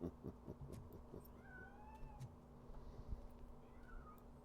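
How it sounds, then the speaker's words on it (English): A cat meows a few times in the video game Robocop: Rogue City, faint, drawn-out calls over quiet clicks and background ambience. "That cat must be hiding inside."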